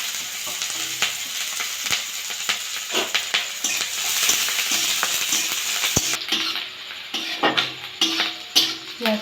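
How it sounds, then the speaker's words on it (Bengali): Onions and green chillies frying in hot oil with cumin seeds, a bright continuous sizzle broken by spatula scrapes and clinks against the pan, close and fairly loud. "পেঁয়াজটা একটু ভাজা ভাজা করে নেবো।"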